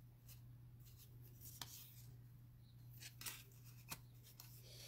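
Scissors snipping through paper during card-making, a few faint, sharp isolated cuts spaced over a quiet background with a low steady hum.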